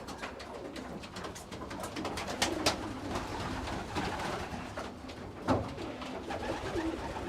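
Pigeons in a loft give off a steady murmur of soft coos and rustling, with a few sharper flaps or knocks standing out, moderately close and continuous, with no talk.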